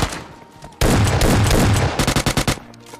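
S12K shotgun fire in PUBG Lite, heard as a loud dense burst of rapid gunfire followed by a string of separate sharp blasts, close and without talk.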